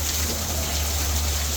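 Waterfall in Michigan's Upper Peninsula running low in a dry autumn, a steady, even rush of flowing water with a constant low rumble and no break.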